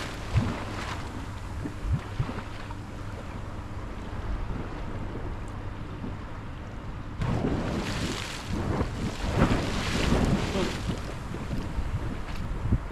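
Hot water gushing from a warm outflow pipe into the sea at Southwick at night, a steady broadband rush of pouring water mixed with wind buffeting and lapping waves, growing louder and rougher midway through.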